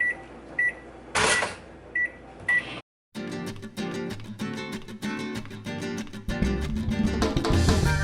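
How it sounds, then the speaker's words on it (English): Microwave oven heating a Boca burger: a few short beeps from the keypad, a door thump, then a steady hum running loud and continuous to the end. "So into the microwave it goes for like a minute and a half."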